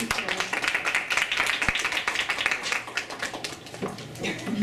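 Clapping rises in a board of education meeting room, moderately loud and uneven, with voices mixed in over it.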